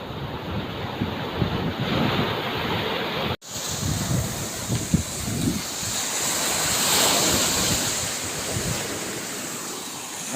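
Ocean waves wash onto the shore at high tide in a continuous, close, loud roar of surf mixed with steady wind buffeting the microphone.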